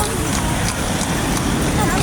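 Horse hooves clip-clopping in a steady rhythm, close by, under a noisy outdoor background with people talking.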